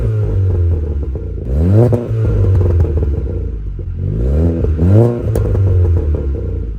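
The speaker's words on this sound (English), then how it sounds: "And it's because of this Scorpion non-resonated catback exhaust." A 1.8-litre four-cylinder Polo GTI with a non-resonated Scorpion catback exhaust revs twice, each rise climbing sharply in pitch to a raspy peak before settling back to a rumbling idle.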